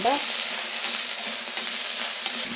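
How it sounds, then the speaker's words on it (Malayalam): Onions sautéing in a pan with little or no oil give a steady, close sizzle and crackle with faint stirring scrapes, running alone and unbroken for the whole stretch. "വഴറ്റി എടുക്കട്ടെ"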